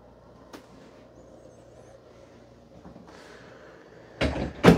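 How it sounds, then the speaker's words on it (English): Quiet room tone inside a travel trailer with a few faint knocks, then a sliding pocket door slides along its track and ends in a loud bump near the end. "you're going to have a sliding pocket door that actually blocks off your bathroom from the living room area"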